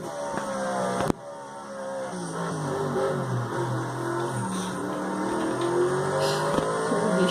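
A turbocharged race car engine roars in the Project Cars racing game during a rainy race, a loud sustained drone that rises and falls as it revs, with a sharp click early on.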